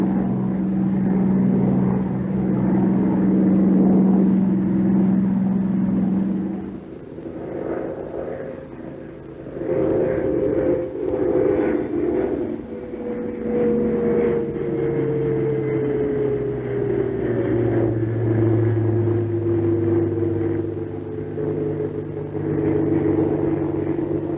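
Loud, rumbling drone of a Bell P-39 Airacobra propeller fighter coming in to land, with the engine tone shifting and falling as power changes, then steadying again.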